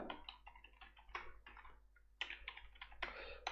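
Quick bursts of light clicking keystrokes on a computer keyboard as a password is entered, soft and close, in short runs with a brief pause midway.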